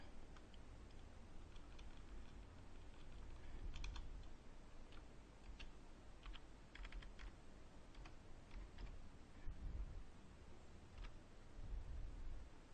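Password being typed on a computer keyboard, with quiet, irregular key clicks in short bursts over a steady low background hum, no voices.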